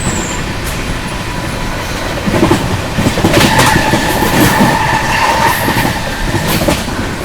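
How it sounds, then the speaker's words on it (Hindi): The Mahabodhi Express races at speed through Chunar Junction, a loud, continuous rolling rumble with rhythmic wheel clatter and faint squeals across the whole stretch. "क्या गजब की रफ्तार में चुनार जंक्शन स्किप किया दोस्तों अपनी महाबोधि एक्सप्रेस ने"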